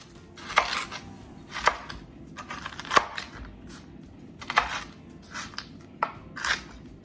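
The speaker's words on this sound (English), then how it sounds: "the rest we'll give it a good chop" A knife chops toasted, bourbon-seasoned pecans on a board in a series of crisp, close strikes, some in quick clusters and others spaced out, with soft crunching and scraping between them.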